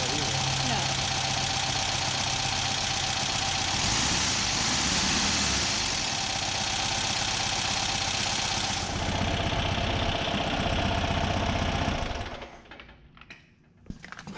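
A 1964 VW single cab engine idles steadily after a camshaft replacement, a close, even mechanical chatter that runs on and then cuts out near the end; a voice is heard over it.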